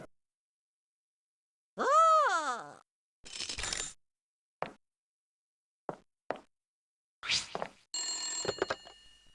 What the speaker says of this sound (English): Nah, it's just the phone.